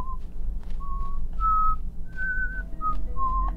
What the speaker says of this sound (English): I guess I'm done whistling then